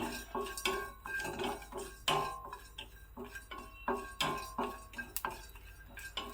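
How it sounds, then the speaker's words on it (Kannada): Cumin and spices dry-roasting in a pan for Mysore-style vangibath powder, heard as repeated clinks and scrapes of a metal spoon against the pan in uneven strokes, close and fairly quiet, with no sizzle and no talking. "ಈಗ ಜೀರಿಗೆ ಮತ್ತು ಮಸಾಲೆಗಳನ್ನು ಹಾಕ್ಕೊಂಡು ಹುರ್ಕೋತಾ ಇದ್ದೀನಿ"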